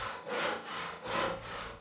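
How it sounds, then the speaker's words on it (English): A saw cuts into a giant pumpkin in slow, even back-and-forth strokes, each a rasping rub, close and moderately quiet with nothing else heard. "Then he fetched his saw and cut open the first."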